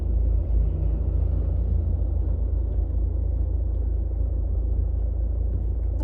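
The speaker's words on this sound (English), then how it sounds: "there's a car now coming down and they're probably going to get annoyed at me" A car rolls along a street outside, a steady low engine and tyre rumble heard from inside another vehicle, even and continuous throughout.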